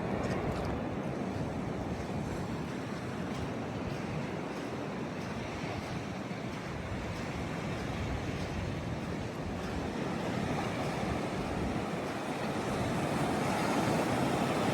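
Atlantic Ocean surf on a Hilton Head Island beach on a cold, windy day, a steady broadband wash of breaking waves with wind buffeting the microphone throughout, close and continuous with no talk.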